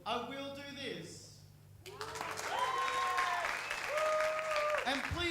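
Studio audience applause at a live radio broadcast recreation, rising clapping that follows a spoken introduction and continues under further talk.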